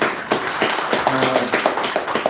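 A church congregation at a Sunday morning service claps together in steady, rhythmic beats, close and fairly loud, with no talking over it.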